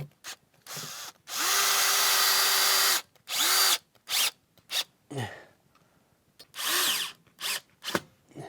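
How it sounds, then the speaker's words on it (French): Power drill used to drill holes while mounting a vertical shelf rail, sounding in several close bursts: one long whine of about a second and a half, then shorter spins and brief trigger pulls with gaps between them. "Perceuse."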